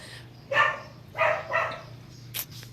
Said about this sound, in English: And our dogs are barking their heads off.